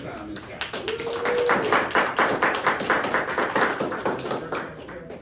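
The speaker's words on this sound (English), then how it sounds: "give yourselves a round of applause if this is your first time in scouts." Cub scouts at a pack Bobcat ceremony applaud themselves with loud, rhythmic group clapping. The claps come in a fairly steady beat for several seconds, then taper off.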